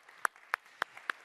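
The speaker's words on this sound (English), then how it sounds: "Give them a big round of applause" Sparse, isolated hand claps from a few people at a fundamental physics panel talk, five or six evenly spaced crisp claps in quick succession, faint and close.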